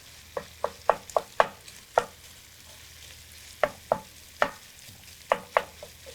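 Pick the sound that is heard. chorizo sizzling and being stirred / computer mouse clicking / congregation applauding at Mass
chorizo sizzling and being stirred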